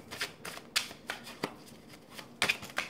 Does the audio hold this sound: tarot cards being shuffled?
yes